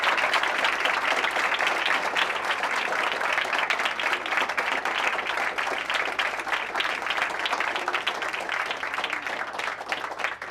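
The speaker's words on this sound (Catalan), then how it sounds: "sisplau, un aplaudiment pel regidor d'Esport de la paeria" An audience applauds a sports councillor, sustained, even clapping from a sizable crowd indoors that runs the whole stretch without pause.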